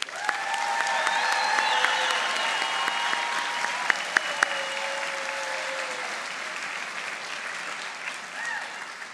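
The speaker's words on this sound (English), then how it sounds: "How about one more round of applause?" A convocation ceremony crowd gives the graduating class of 2024 a sustained round of applause, dense and even from start to finish, with a few sharp claps standing out and brass instruments faintly sustaining notes underneath.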